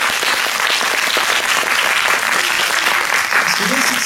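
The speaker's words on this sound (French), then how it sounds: "On peut les applaudir." An audience at a manga drawing challenge claps loudly and steadily, a thick continuous patter of hands, with a voice faintly heard near the end.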